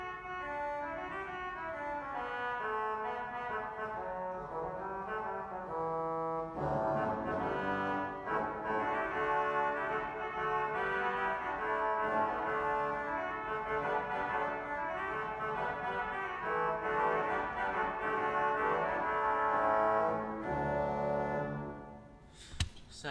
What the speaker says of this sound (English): here's the oboe anyway